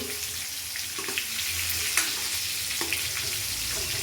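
Eggplant pieces frying in hot oil in a pan, a continuous close sizzle with a few soft clinks and stirring scrapes scattered through, no talking.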